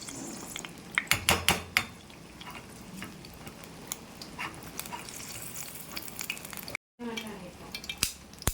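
Onions sautéing in a pan for Chennai-style wedding biryani, a soft sizzle under the clatter of a metal spoon stirring and scraping, with sharper clanks in bursts and a brief dropout partway through.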